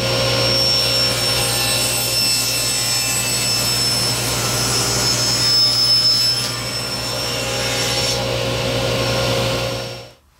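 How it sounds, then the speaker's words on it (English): A table saw runs loud and steady with its motor whine and cuts a wooden dowel in half over several seconds, then spins down at the end. "we're going to turn the saw on, and carefully run this through"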